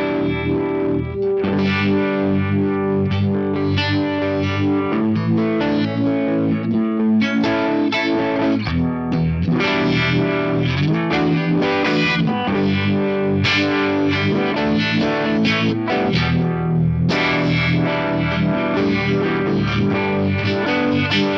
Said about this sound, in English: you can make the Univibe more or less lumpy sounding with these controls